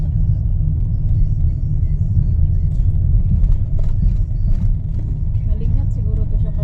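A car's steady low road rumble continues throughout from inside the vehicle on a family drive to Sirao Garden in Cebu. Voices talk over the engine and road noise.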